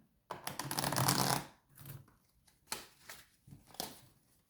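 Tarot cards shuffled close up during a card reading, a long riffling burst followed by a few shorter flicks and taps as the deck is squared.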